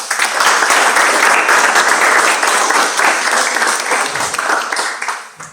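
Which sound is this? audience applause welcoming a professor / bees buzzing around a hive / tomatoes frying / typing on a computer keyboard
audience applause welcoming a professor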